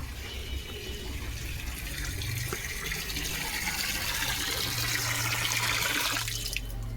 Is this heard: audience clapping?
no